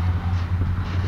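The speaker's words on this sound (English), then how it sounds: "Yard engine's working. He's building a train." A yard engine moving rail cars to build a train, heard as a steady low rumble with a constant deep hum, close and fairly loud, with no voices.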